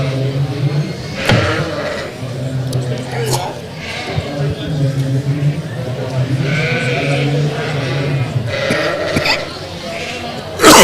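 Hampshire ewes bleat repeatedly at a livestock show, their calls rising over a constant crowded barn murmur and arena bustle, with people talking throughout.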